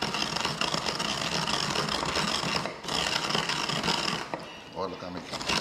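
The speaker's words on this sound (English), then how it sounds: "So I think I'll even this amount whole, and I'm gonna grind this." Whole cumin (geera) seeds are ground in a kitchen, giving a steady, close gritty grinding and rasping that briefly dips twice, with a little talk in the background.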